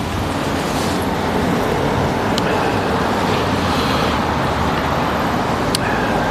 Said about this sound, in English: Cars are loud, I agree.